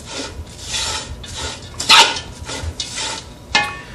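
Spring roll filling being mixed in a bowl, with fairly close wet scraping and rustling strokes in an uneven rhythm and a few sharper clinks against the bowl.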